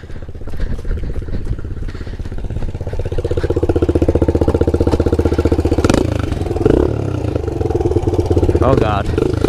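Pit bike engine running steadily nearby, a loud continuous idle that swells slightly in the middle and carries on throughout, with people talking over it.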